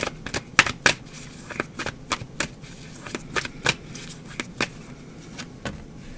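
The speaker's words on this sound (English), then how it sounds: "I put a lot of cards on the table for this spread, so just move this up a little bit." Tarot cards slid and shuffled across a table, giving a quick run of crisp, close slaps and papery rustles in an uneven rhythm, with no talking.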